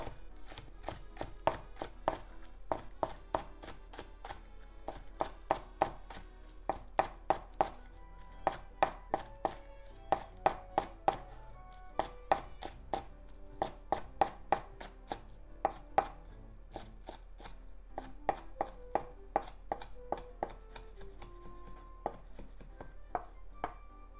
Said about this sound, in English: Let's make thin slices.